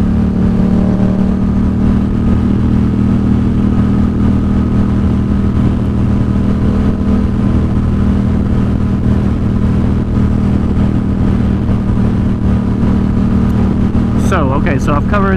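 Yamaha XSR700 motorcycle fitted with a Two Brothers SR1 exhaust riding along Tennessee roads, a steady loud engine drone with constant wind rush throughout and a brief rising rev near the end.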